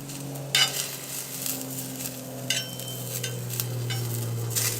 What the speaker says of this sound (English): and we're going to fry it up in this oil.